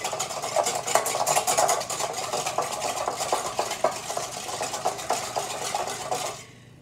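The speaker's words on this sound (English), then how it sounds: "I'm going to whisk these eggs" Eggs being whisked in a bowl for French toast batter, a quick steady run of light clinking, scraping strokes that carry on for several seconds before stopping abruptly.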